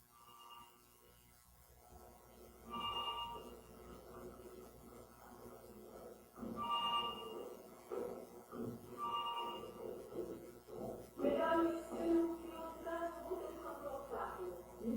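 Electronic composition built from mobile phone beeps, with repeated short tonal beep clusters recurring every few seconds over a soft synthetic bed, growing denser and busier toward the end.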